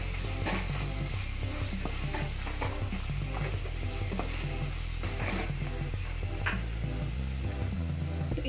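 A tomato masala with fennel is stirred and cooked in a pan, giving a dense, steady sizzle with repeated scraping and clattering strokes close by, alone without talk.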